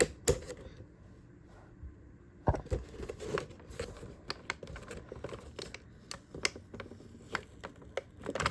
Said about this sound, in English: I actually have to get my scissors out for this part because of the tape.